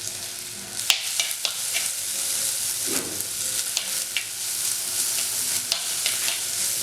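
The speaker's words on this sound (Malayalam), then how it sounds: "ഇനി ഇതിലേക്ക് നമുക്ക് ഇഞ്ചി വെളുത്തുള്ളി ഉള്ളിയും കൂടി ഇട്ടൊന്ന് വാട്ടണം" Ginger, garlic and onion sauté in hot oil for a shark curry, a steady close sizzle broken by sharp clicks and scrapes of a spoon stirring against the pan, with no talking.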